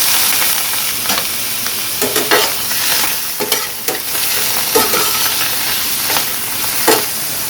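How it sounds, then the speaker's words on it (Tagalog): Mushrooms cook lightly in a little oil in a hot pan, giving a loud continuous sizzle with intermittent stirring scrapes and brief crackling bursts. "lutuin natin ng bahagya lang ang ating mushroom"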